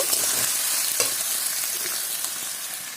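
Coconut chicken fries in a pan with a steady close sizzle, broken by scraping stirs near the start and around the one-second mark, holding at an even loudness throughout.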